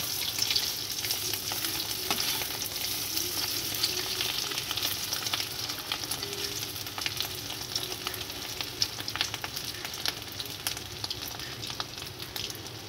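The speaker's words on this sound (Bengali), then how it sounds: "বড়াগুলো এক পিঠ হয়ে গেছে, আমি আর এক পিঠ উল্টে নেব।" Bora fritters frying in oil in a village kitchen, turned to cook the second side, give off a steady, dense sizzle with crackling pops that continues evenly throughout, with no voices.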